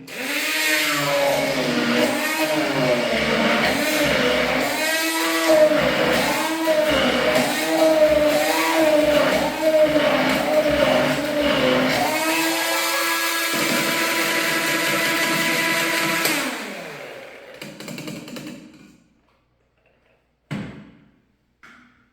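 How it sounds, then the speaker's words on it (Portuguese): A loud blender motor grinds apples continuously for about sixteen seconds, its pitch wobbling as contents churn, then winds down and stops, followed by a few clunks. "Agora a gente bate isso ou no mixer ou no liquidificador para moer isso da melhor forma possível"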